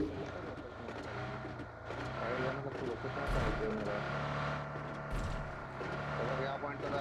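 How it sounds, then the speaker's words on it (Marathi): A vehicle in the video game PUBG pulls away with a low engine rumble that revs and rises and falls, heard under close, conversational talk. "गाडी निघाली बघ."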